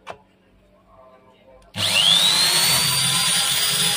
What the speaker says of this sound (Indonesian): terus bor dulu.